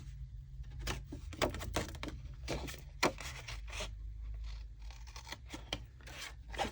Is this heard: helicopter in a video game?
no